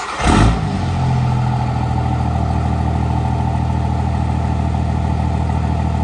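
A 6.7 Cummins diesel engine in a 1978 Chevy Squarebody pickup roars up after a brief burst, then settles into a steady, throaty idle that holds evenly to the end.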